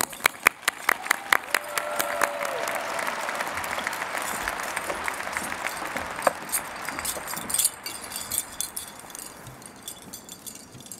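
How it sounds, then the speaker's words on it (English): A graduation crowd at Minnetonka High School applauds a student speaker in a large hall, a loud dense wash of many clapping hands with sharp nearby claps, thinning out gradually toward the end. "Minnetonka, please give a huge round of applause for your student speaker, Jerry Jong."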